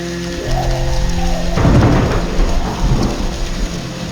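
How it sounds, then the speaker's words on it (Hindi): Heavy rain pours down steadily while a loud crack and rumble of thunder breaks in partway through and rolls on beneath the downpour, close and full, with no voices. "कुछ ही दिनों में घनघोर बारिश होती रही।"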